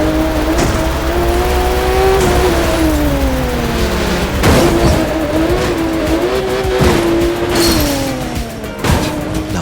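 Race cars in The Crew 2 video game roar past with rising and falling engine whines, gear shifts and tire squeals, loud and continuous with sharp impacts scattered through.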